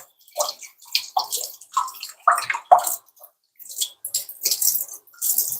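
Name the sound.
water running while washing hands at a sink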